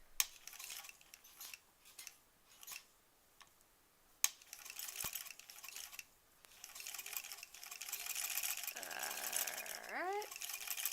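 An old sewing machine stitches a tight curve in fabric, sounding as quiet, short mechanical bursts of a few stitches at a time with pauses between, then a longer faint run.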